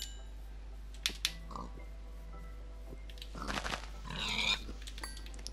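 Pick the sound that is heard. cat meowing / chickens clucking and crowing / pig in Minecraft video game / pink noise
pig in Minecraft video game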